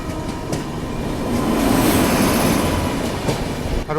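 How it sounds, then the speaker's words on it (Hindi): Rajdhani Express on Indian Railways running through Bhusawal station without stopping, heard as a steady loud rumble of wheels and carriages with rhythmic clicks and a swelling roar in the middle. "यहाँ पे हमारी ट्रेन रुकेगी नहीं,"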